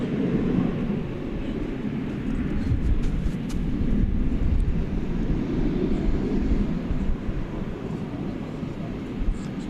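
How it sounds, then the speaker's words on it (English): Boeing 737-800 bound for Reno taking off at night from DFW Airport, a continuous loud, low engine rumble holding steady and heard from fairly close, with no break in the roar. "This one's going to Reno. It's 737-800, flight 1636."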